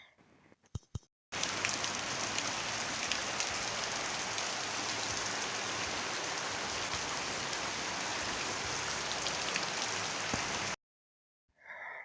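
Steady rain pouring down outside in a village during the rainy season, a dense, even hiss lasting several seconds, loud and close, cutting off abruptly with brief clicks at either end.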